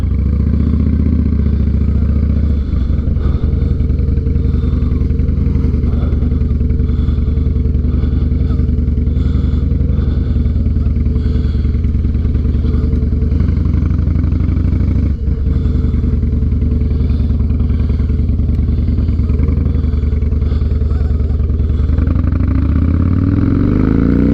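A Harley-Davidson Night Train motorcycle, freshly fitted with new spark plugs, runs loud and close for a long stretch, its deep engine drone rumbling continuously with rattly clatter and small shifts in pitch as it rides.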